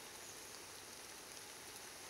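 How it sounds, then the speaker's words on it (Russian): Steady, dense hiss of autumn rain falling in taiga forest, even and continuous with no pauses or voices. "Дождь — это нечто просто."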